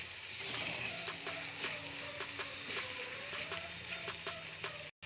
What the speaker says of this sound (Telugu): హైలో పెట్టుకొని కలుపుకుంటున్నాను.